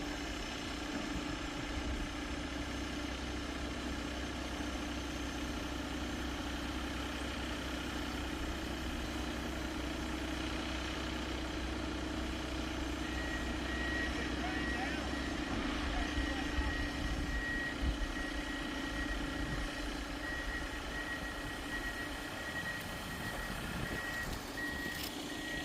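A heavy machine loading gravel at a road washout hums on a steady, distant engine drone, with faint reversing beeps pulsing in a regular rhythm through the second half.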